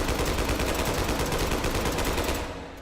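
Dense automatic gunfire in the VR shooter game H3VR, a loud continuous rattle of rapid shots that keeps going for nearly three seconds before tapering off at the end.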